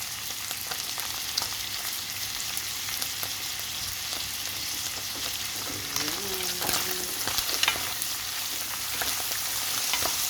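Beef sizzles and fries steadily in a pan as tomatoes are added, a dense continuous crackle with occasional scrapes and clinks of utensils.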